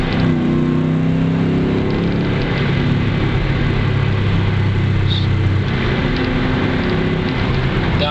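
A 2006 Dodge Dakota with a six-speed manual pulls hard at full throttle, its engine and road noise a loud, continuous, dense roar heard from inside the cab, with no one speaking.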